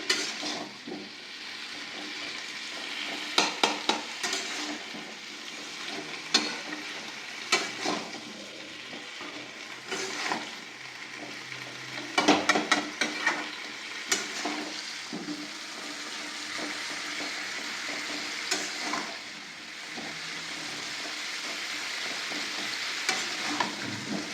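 Cauliflower and potato fry with spices in a pan, giving a steady close sizzle throughout, broken by repeated clicks and scrapes of stirring utensils, with no talking.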